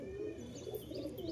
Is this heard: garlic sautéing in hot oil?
no